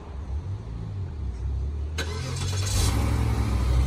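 A 2008 Cadillac DTS Northstar engine starts by remote start partway through, then settles into a steady idle with a low rumble.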